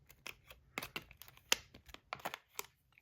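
Packaging around a Magnus Rail V2 fidget toy is pulled open from the side by hand, giving a close, quiet run of sharp crinkles and small tearing crackles with no talking.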